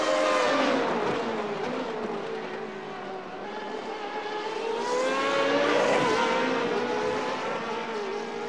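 A race car engine in the iRacing sim game is heard from outside, a loud, growly exhaust note that holds steady, dips briefly, then rises again.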